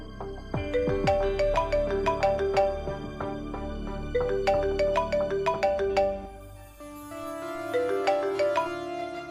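A mobile phone rings with a melodic, bell-like ringtone, a bright repeating tune of plucked notes that plays clearly for several seconds, pauses briefly, then resumes.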